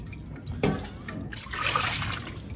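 Peeled potatoes are washed by hand in a bowl of water, with sloshing, splashing and dripping in short bursts, fairly close and moderately loud.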